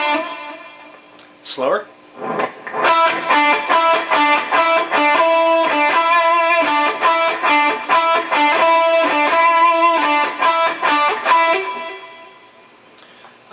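Distorted electric guitar plays the Viva La Bam theme riff with vibrato, a fast, choppy run of loud, rhythmic notes held for about ten seconds, with a brief spoken word before the playing starts.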